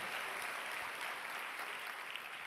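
A church congregation gives dense, continuous clapping that sounds steady, evenly spread and somewhat distant, with no gaps throughout.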